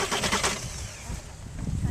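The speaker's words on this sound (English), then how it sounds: "This is the second time I'm trying to crank the car." Volkswagen Jetta TDI diesel engine cranking without catching, a steady churning starter-and-engine drone that continues throughout with no firing.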